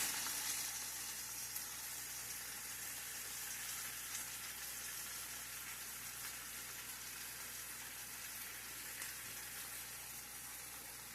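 Pancakes frying in a pan on a home stove give a steady, even sizzle that holds at a constant level throughout with no voices.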